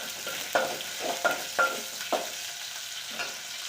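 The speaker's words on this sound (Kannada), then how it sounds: "ಉಳ್ಳಾಗಡ್ಡಿ ಸ್ವಲ್ಪ ಕೆಂಪಾಗಲಿ." Onion frying in a pan, a soft sizzle broken by several sharp stirring scrapes and taps, close and fairly quiet, with no talk.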